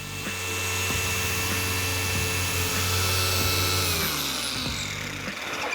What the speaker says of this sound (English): When that's done, I turn to full speed and start working on the scratch.